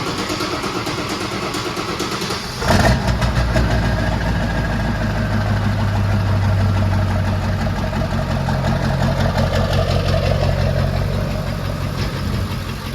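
A truck engine idles steadily and then rises in level as it runs while being driven outdoors, a continuous close rumble that keeps going on its own with no talking over it.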